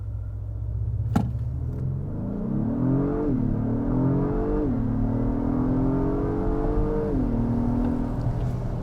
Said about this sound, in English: Let's go ahead and try it again right here, though, because I want to just do one more run. We'll brake torque it again